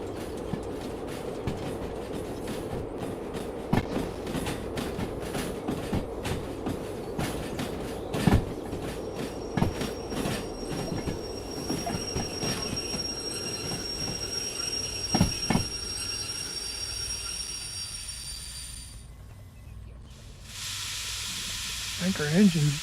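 A train rolls along in the DV Sim railway simulator game, with rhythmic clickety-clack from the wheels, squealing wheels and a steady rumble that fades toward the end, while someone talks over it.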